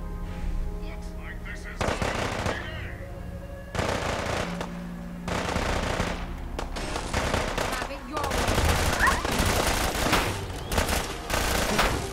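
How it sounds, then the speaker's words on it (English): A minigun in the video game Fallout 4 fires in several loud sustained bursts separated by short pauses, with a voice talking over the gunfire. "Use a minigun on me now?"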